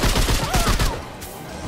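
Gunshots in Remnant 2, a quick burst of loud, rapid shots over about a second, trailing off into quieter game ambience with no talking.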